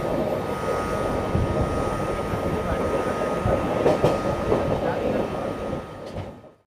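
Gomti Express passenger train heading toward Ghaziabad, a steady loud rumble of wheels on rails heard from on board, fading near the end.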